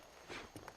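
A horse's hooves clip-clop faintly in Red Dead Redemption, a few soft, uneven thuds in quick succession against a quiet background.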